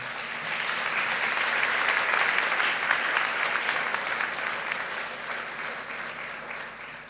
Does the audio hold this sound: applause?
yes